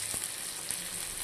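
Onion frying in a little oil, a soft steady sizzling hiss with a light knock or two from a spoon, short and close, without speech.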